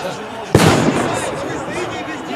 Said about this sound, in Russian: Детей бросают взрывчатые вещества